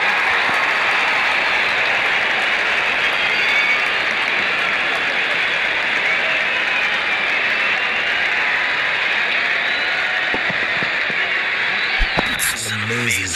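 A cricket crowd at an India versus Pakistan match applauds a half-century with sustained, dense clapping and cheering that fills the stands, steady for over ten seconds before tailing off near the end.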